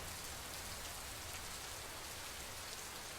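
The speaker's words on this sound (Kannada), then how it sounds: "ಕೊಡಗು ಜಿಲ್ಲೆಯಲ್ಲೂ ಕೂಡ ಅಬ್ಬರಿಸಿ ಮಳೆಯಾಗ್ತಾ ಇದೆ" Heavy monsoon rain in Kodagu district under a red alert, a dense, even wash of falling drops with no breaks or voices, steady and fairly faint throughout.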